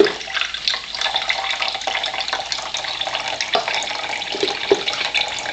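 Water pouring from an Enagic Athena water ionizer into a sample container, a steady continuous splashing stream, close and even for the whole stretch.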